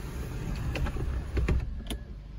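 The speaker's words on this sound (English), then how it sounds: "let's go ahead and retract the sunroof now" A 2015 Volkswagen Golf TSI's power sunroof motor runs with a low, continuous hum, broken by a few faint clicks and knocks from the panel as it moves.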